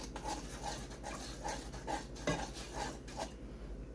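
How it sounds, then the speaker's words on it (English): Pineapple habanero hot sauce stirred in a pot, a spoon scraping and knocking against the side in a steady rhythm of about two strokes per second, close and moderately quiet over a faint stovetop hum. "and stir it around"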